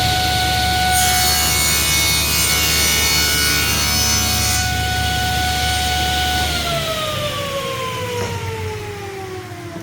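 A table saw rips through wood with a loud, steady whine for several seconds, then the motor shuts off and the blade's pitch drops away as it spins down to a stop.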